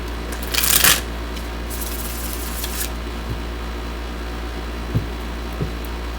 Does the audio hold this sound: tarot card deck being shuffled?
yes